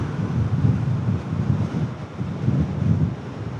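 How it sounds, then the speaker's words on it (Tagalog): Strong wind buffets the microphone outdoors, a loud continuous low rumble with gusting swells and no voices. "Lakas ng hangin."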